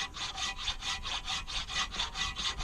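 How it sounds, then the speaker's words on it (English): A small square file scraping rust off a car brake caliper bracket on a Chevy Impala, a steady rhythmic rasp of quick back-and-forth strokes, close and loud with no talking. "I have a little square file. I just got to move it around a little bit,"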